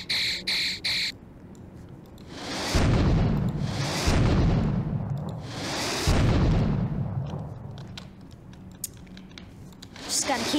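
Rocket launcher blasts in a scary Roblox obby set in a toy shop: three heavy, booming explosions roll out one after another, each with a long rumbling tail, over game sounds and a few bird-like chirps.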